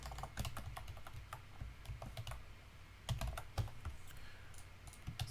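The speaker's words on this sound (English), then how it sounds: "So I'm typing this here," Keystrokes on a computer keyboard during live game development, a rapid uneven run of close, crisp clicks with brief pauses and a few heavier key hits, no talking.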